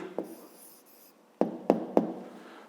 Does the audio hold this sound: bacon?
no